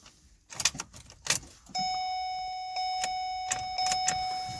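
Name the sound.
attempt to crank a 2009 Ford Escape Hybrid with the key, no start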